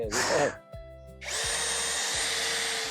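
Cordless power drill driving heavy-duty screws, probably into wood on a farm job: a short whirring burst, a pause, then a long steady loud drive close by, with a brief sigh-like voice at the start.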